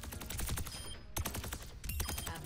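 Lifeweaver's thorn volley firing in Overwatch 2, a rapid continuous stream of sharp projectile shots in dense bursts, loud and close, with brief breaks between volleys.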